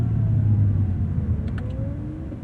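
A 2017 Acura NSX NC1 hybrid supercar with front electric motors pulls hard, a deep, steady engine rumble with rising tones from inside the cabin and a few faint clicks midway.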